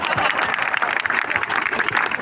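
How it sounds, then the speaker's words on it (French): An audience at a live comedy show applauds a 29-year-old volunteer, a loud, close burst of clapping with some crowd noise throughout. "On peut l'applaudir"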